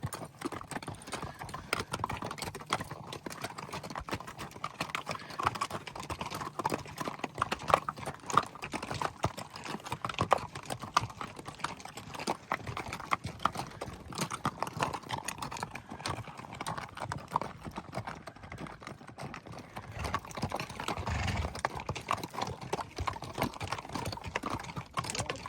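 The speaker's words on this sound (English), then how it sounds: "It's just so cool seeing the mules go by." Pack mules walk the South Kaibab Trail at the Grand Canyon, their hooves clip-clopping steadily on the rocky path for the whole stretch, fairly close and without talk.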